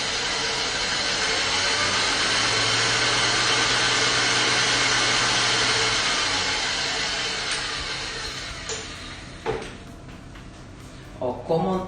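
A stand mixer beats tartlet dough in a home kitchen, its steady whirring drone filling the first eight seconds before easing off, followed by a few scraping knocks against the bowl.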